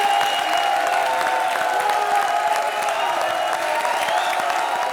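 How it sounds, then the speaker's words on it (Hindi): A studio audience on a comedy show stage claps in a dense, steady burst of applause that stays loud and even from start to finish, with no voices standing out. "ताली बजाओ"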